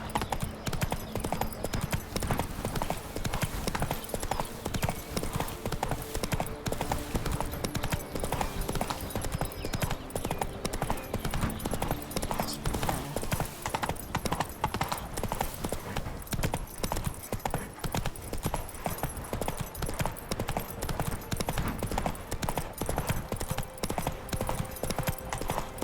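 Roach the horse gallops in The Witcher 3: Wild Hunt. Rapid, even clip-clop hoofbeats continue without a break, close and clear over a dense game soundscape.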